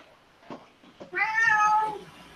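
A domestic cat meows once, clear and close, a drawn-out tonal call lasting under a second, preceded by a couple of faint taps and soft noises in an otherwise quiet indoor room.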